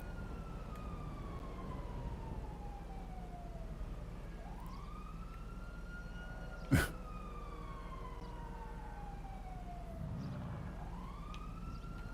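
Police sirens wail in GTA 5 Online, slow falling and rising sweeps from a vehicle at a moderate distance over a steady low rumble, with one sharp sudden bang partway through.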